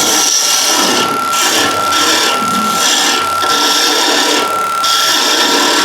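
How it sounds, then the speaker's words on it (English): A spindle gouge cuts into wood turning on a lathe, a loud, close scraping hiss rising and falling in repeated strokes over a steady motor hum, with no talking. "So onto the spindle gouge."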